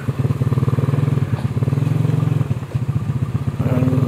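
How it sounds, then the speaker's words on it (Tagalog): An old motorcycle engine runs steadily on a descending rural road between Polangi and Gayam, its loud, continuous low chugging drone filling the whole stretch with a slight rise near the end. "Luma-luma pa yung motor natin dyan."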